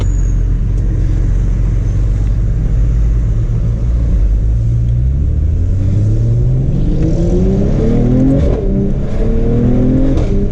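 A Mercedes CLS53 AMG straight-six in its individual drive setting gives a loud, steady rumble at idle, then revs up with a rising, climbing engine note, heard close and alone.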